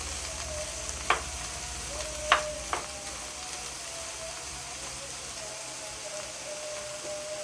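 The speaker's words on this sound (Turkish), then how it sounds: "Bakın iyice kavuruyorsunuz." Steady sizzling of cabbage sautéing in a pan, with a few brief clinks of a utensil stirring near the start.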